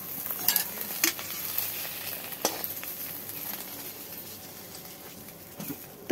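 Egg toast sizzles and fries in a pan over a jute-stick fire, a steady crackling hiss punctuated by several sharp clinks and scrapes of a utensil stirring, close and fairly loud.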